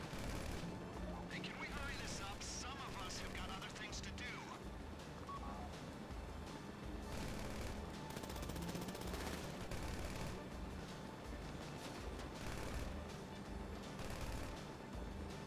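Machine gun fire during a GTA V Online gameplay session, rapid bursts and dense crackling gunshots throughout under game sound, fairly quiet overall with other clatter mixed in.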